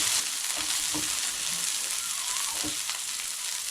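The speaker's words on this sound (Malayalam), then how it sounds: "ചെറിയ ഉള്ളി ഇട്ട് ഒന്ന് ചെറുതായിട്ടൊന്ന് ഇളക്കി കൊടുക്കണം." Small shallots frying in hot oil in a pan for a Kerala-style roasted-coconut crab curry, a dense steady sizzle with brief stirring scrapes and pops, close and fairly loud, no talk.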